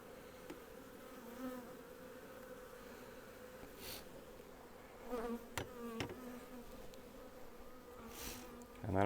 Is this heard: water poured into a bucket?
no